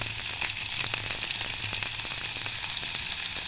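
Prepared ingredients for a bean curry dropped into a little oil in a pot, giving a loud, continuous, close hiss of frying with faint crackles and no talk.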